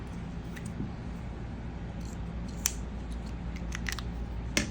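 Scissors snip crochet yarn tail, a couple of faint, quick clicks close by against a low steady background hum.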